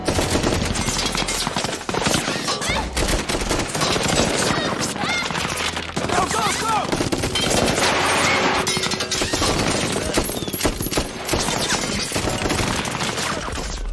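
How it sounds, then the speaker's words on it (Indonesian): Heavy gunfire rakes a house during an action film scene, with dense rapid bursts of automatic shots and crashing impacts filling the whole stretch loudly and almost without pause. "kediaman Frank tiba-tiba dihujani tembakan oleh anak buah Wall Street yang ditugaskan untuk menghabisinya"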